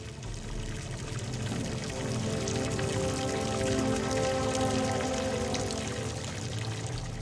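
Water gushes from a barrel in a dense, continuous splashing pour that swells slightly and stays loud throughout, like a heavy outflow hitting a surface.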